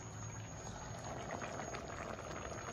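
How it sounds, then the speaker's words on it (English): Rice boiling in a pot on a home stove, a steady soft bubbling and simmering that stays faint and continuous throughout, with no talking. "I'm just boiling rice."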